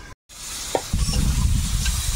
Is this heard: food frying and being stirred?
yes